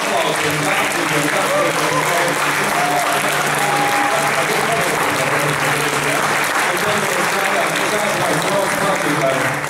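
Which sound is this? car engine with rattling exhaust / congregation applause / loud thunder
congregation applause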